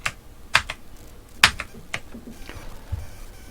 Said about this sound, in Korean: 정경색이 흰색으로 변경된 걸 확인하시고 Alt 키와 Del 키를 누릅니다